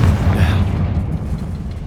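The Confringo fire spell from Hogwarts Legacy bursts in a single deep, loud boom that rolls off into a low rumble, heard alone without talk.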